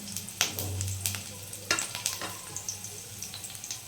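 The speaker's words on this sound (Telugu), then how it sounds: "ఇది కొంచెం హీట్ అయిన తర్వాత మనం ఇప్పుడు పచ్చిమిర్చి 1 వేసుకుందాం." A green chili fries in hot oil in a pan, giving a steady close sizzle with scattered crackles and a few louder pops and stirring scrapes, with no voices.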